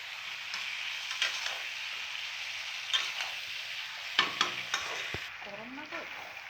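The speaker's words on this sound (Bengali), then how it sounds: "দেখুন বন্ধুরা, বিয়েবাড়ির স্টাইলে মাংস রান্না হচ্ছে" Meat cooking wedding-style in a pot, a steady loud sizzle with several scraping stirs of a utensil against the metal, close and without talk.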